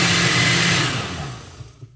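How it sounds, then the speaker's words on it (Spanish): Kitchen blender whirring through a creamy huancaína sauce, a loud steady motor drone that winds down and fades out over about two seconds. "Ahora sí, licuamos."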